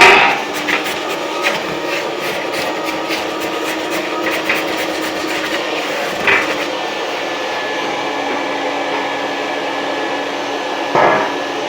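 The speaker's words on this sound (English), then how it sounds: "You want to vacuum off the breech." A steady vacuum cleaner roar runs throughout, with scraping and knocking as the nozzle rubs against a heater boiler's metal breech during an annual cleaning, and a couple of louder bumps.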